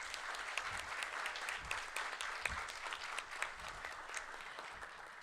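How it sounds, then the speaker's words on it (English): An audience at a tabletop games industry panel applauds steadily, a dense patter of many hands clapping throughout, heard from a distance and fairly quiet. "Can I get a big round of applause for all my panelists?"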